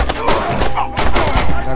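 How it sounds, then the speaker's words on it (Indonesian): Loud, dense gunfire from a war film scene in which soldiers are shot, a continuous barrage of overlapping bursts filling the whole moment. "Mereka pun menembaki semua tentara yang ada di sana."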